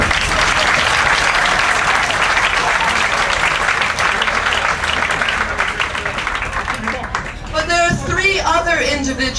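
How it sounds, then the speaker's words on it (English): Loud, dense applause from a banquet audience fills the room for about seven seconds, then fades as a voice begins speaking over the last of the clapping. "This is the moment to clap."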